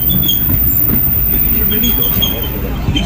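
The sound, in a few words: Disneyland Railroad train running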